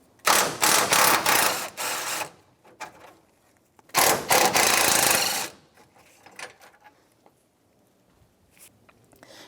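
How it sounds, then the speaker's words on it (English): A ratchet wrench loosening the top radiator mounting bolts on a 1992-1996 Ford F-150, two close bursts of rapid clicking with quieter scraping and handling noises between them. "Now I'm free to unbolt the actual radiator to the structure of the vehicle."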